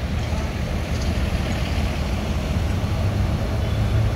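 A Lorena intercity bus in Indonesia rumbles past at a terminal, its deep, steady low engine drone loud and continuous throughout, with no talk.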